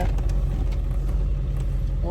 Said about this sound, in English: So we're taking the truck and going from there.